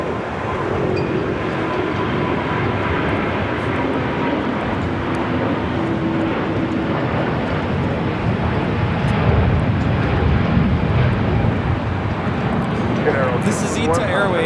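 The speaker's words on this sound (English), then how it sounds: "This is ITA Airways 621, taking off to Rome, Italy on the A350-900" An ITA Airways Airbus A350-900 takes off from LAX for Rome, a loud, sustained engine roar filling the whole stretch while a voice talks over it.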